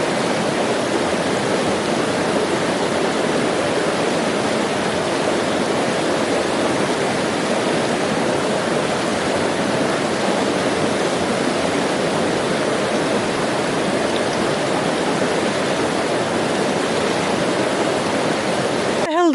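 A river rushes steadily across a hiking route in the North Island ranges, its broad, loud wash of flowing water filling the whole stretch without a break and with no voices over it.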